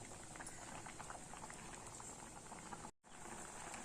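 Tapioca simmers in a pot of water, a soft, steady bubbling and gentle patter that runs evenly throughout, quiet and close, with one brief dropout near the end.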